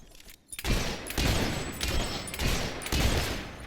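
Gunfire in the video game Fable 3: loud, sustained volleys of shots surge in several waves after a brief quiet start, close and dense with no talk over them.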